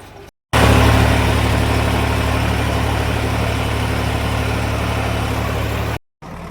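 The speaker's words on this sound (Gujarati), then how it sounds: "પાછા બારે ટ્રેક્ટર લગાડી દીધું છે." A tractor engine runs at a factory yard, loud and close, with a steady rumbling drone that holds for about five seconds between short silent breaks at the start and end.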